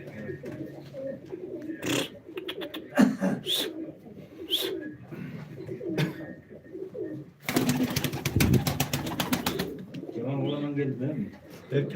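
Pigeons coo softly in the background at a live pigeon auction, under frequent talking voices and bursts of clattering noise.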